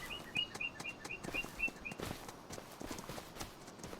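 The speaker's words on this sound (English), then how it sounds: "Beautiful horses." Horses on a farm in Farming Simulator 25 clip-clop with a quick run of hoof beats, quiet and close, over soft ambient noise with a string of faint bird chirps early on.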